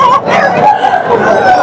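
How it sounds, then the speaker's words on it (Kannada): Roosters at a weekly Friday hen market in Bangarapet, where parrot-beak Aseel birds are sold, crow and cluck loudly and close by in a continuous, overlapping stretch. "ಹುಂಜುಗಳ ಮಾರ್ಕೆಟ್ ಇದು."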